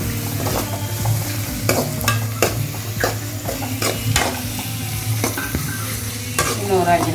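Chicken masala for a chicken gravy fries in a pan with a steady, close sizzle, broken by regular spatula scrapes and knocks throughout.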